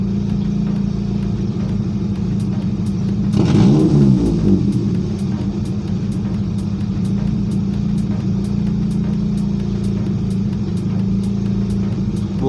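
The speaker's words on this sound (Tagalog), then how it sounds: "tapos umuubo-ubo yung makina natin." Car engine with a fault, misfiring and sputtering as it is revved, air conditioning off; a steady close idle rumble swells briefly into a louder, rougher rev burst before settling back, with no one talking.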